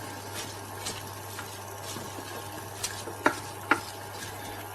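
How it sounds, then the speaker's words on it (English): Onions sautéing in a pan for onion soup, a soft steady sizzle punctuated by a few light clicks and taps of the utensil against the pan toward the end, quiet and without speech. "I'm going to mix it a little bit."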